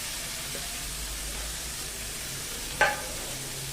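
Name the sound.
vegetables being stirred in a pan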